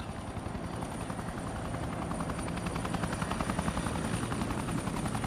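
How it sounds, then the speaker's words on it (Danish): A Bell 212 helicopter flies over Arctic sea ice, its rotor thudding in a fast, even pulse that swells gradually from distant to louder across the stretch, heard alone. "begynder at kunne høre den her meget markante lyd af 212-helikopter"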